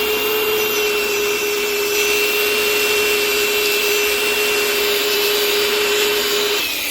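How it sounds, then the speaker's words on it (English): A small wheel on a power tool cleans cylinder head parts from a 2013 Cummins engine held in a vise. It gives a steady, loud, high whirring whine with a constant rushing hiss and no talking. "taking my little wheel right here, and I clean every single one of these off"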